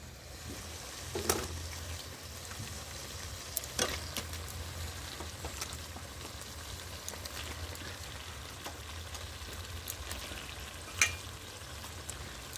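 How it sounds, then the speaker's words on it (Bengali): Chicken frying in spice masala for chicken kosha, a soft continuous sizzle with scattered crackles and light stirring clicks, close and fairly quiet, no talking. "এই দেখো এবার আমি চিকেনগুলো দেবো"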